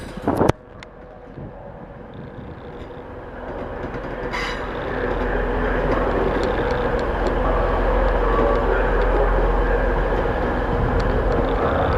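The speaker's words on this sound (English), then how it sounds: "Now departing is a budget train service to Edinburgh." Budget train service departing York station for Edinburgh, a steady rumbling roll of wheels and carriages that builds and holds loud after a brief sharp knock at the start, with no talk.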